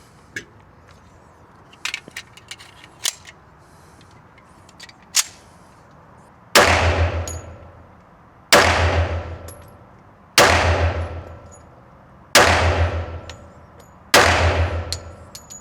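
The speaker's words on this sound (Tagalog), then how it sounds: "Sarap yung putok ng Citadel." Rock Island Armory Citadel 1911 pistol fires five loud, evenly spaced shots outdoors, each ringing out with a long decaying tail, preceded by fainter scattered clicks and metallic taps.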